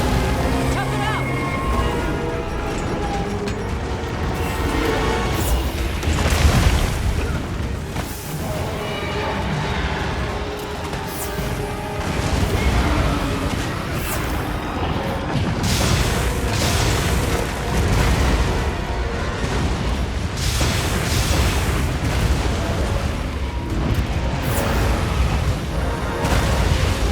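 Compact anti-wyvern guns firing in Monster Hunter Wilds, repeated heavy booms and bursts within a dense, loud battle mix of music and effects, with voices calling out amid the din.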